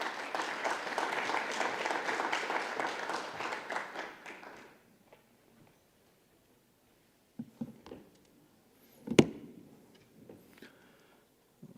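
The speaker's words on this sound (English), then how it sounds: "Please welcome Dr. Cha with a warm round of applause." Audience applause welcoming a speaker at a health forum prize ceremony, a crowd clapping steadily for about four seconds before fading to near silence, followed by a few faint taps and handling bumps.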